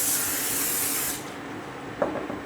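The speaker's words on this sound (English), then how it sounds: "I take and I spray it with some oil." A short, close hissing burst of aerosol oil spray onto a baking mat lasts about a second, followed by quiet, faint rustling.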